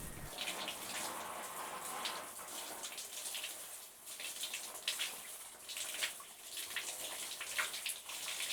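Water runs steadily in a small rustic shower, a soft continuous hiss and patter heard from close by, with faint splashing changes throughout and no talking.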